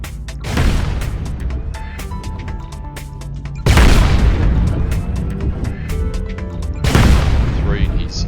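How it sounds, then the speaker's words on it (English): Weapon fire in MechWarrior Online as a Dragon mech shoots an Awesome mech in the chest: three heavy booming volleys land about three seconds apart, each a loud burst of blast and rumble that rings on between shots. "Now I'll shoot the awesome in the middle of the chest"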